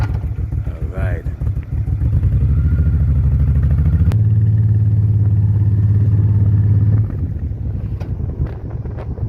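Motorcycle riding on a tour through Sweden, with a loud steady engine drone and heavy wind rush, the engine note rising then holding a strong constant pitch before easing off; a voice speaks briefly near the start.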